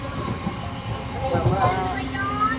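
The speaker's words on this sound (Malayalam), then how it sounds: "നമ്മൾ ട്രെയിനിൽ ആദ്യമായിട്ടാണ് തറയിൽ യാത്ര ചെയ്തത് അല്ലേ വാസുദി" Inside a moving train carriage, travelling from Kollam towards Chottanikkara: a constant low rumble and rattling, with faint voices in the background.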